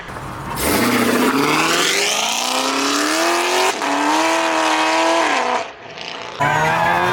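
Ford Mustang Mach 1 pulling away from a cars-and-coffee meet, engine roaring up through the gears with rising pitch, a brief shift break near the middle, loud and close before fading slightly at the end.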